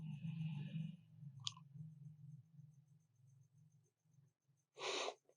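A computer mouse gives a sharp single click, then another brief click burst near the end, set against quiet room noise and soft breathing.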